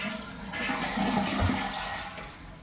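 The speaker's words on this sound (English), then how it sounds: "And then go ahead and flush the toilet." A toilet flushes while a Crown electric bidet seat by Bidet King is being installed, just after the water valve is shut off: a close, steady rushing whoosh of draining water lasting throughout, with no talking.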